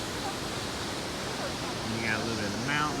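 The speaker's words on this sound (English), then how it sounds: "Beautiful waterfall." A waterfall in Germany, set among mountains in the morning, gives a steady broadband rush that fills the whole scene, with a voice speaking faintly underneath.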